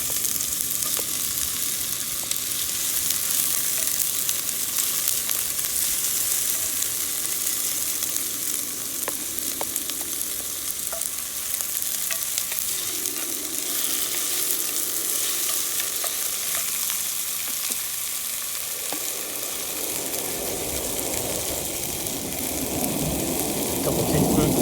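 Onions fry in olive oil in a pan for homemade chili, giving off a steady close sizzle with occasional stirring scrapes, and the crackle swells louder near the end.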